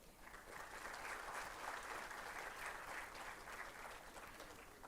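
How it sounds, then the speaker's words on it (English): An audience at a university inauguration event applauds the participants with sustained, even clapping that stays at a moderate, somewhat distant level throughout. "let's all give a round of applause for all the participants."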